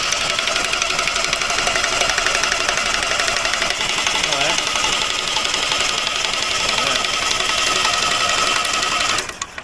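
Old scrap Toyota 18R engine from a Hilux cranking over on the starter, a loud continuous rhythmic churning drone that lasts about nine seconds and cuts off at the end.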